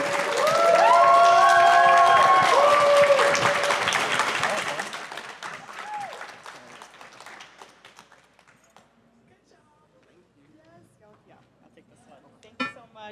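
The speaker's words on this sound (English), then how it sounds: "One more round of applause for this incredible conversation." Applause and cheering from an audience after a teen tech panel talk at a DEMO2025 studio session, loud and dense at first, then thinning and fading into scattered claps and quiet room noise.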